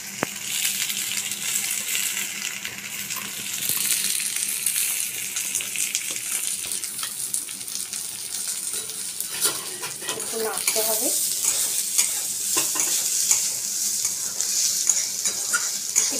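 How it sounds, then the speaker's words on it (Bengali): Drained Gobindobhog rice going into a pan and stirred on low heat, a soft sizzle under scraping, rattling stirs and grainy clatter, close and continuous. "এবার আমি জল ঝরানো চাল গোবিন্দভোগ এর মধ্যে আমি দিয়ে দিলাম,"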